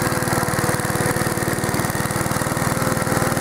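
A 1952 AirCaps Sit'n Cut riding lawnmower's small engine runs loud and close at open throttle, a steady, rapid, buzzing drone with no pauses.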